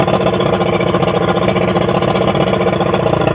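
A Yamaha 150 HP outboard engine on a Skeeter boat idles loudly and steadily up close, a dense, even, low rumble with no pauses and no voices.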